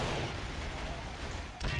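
Gunfire and battle noise in the Killzone shooter game, a dense continuous rumble of shots with a heavier burst near the end.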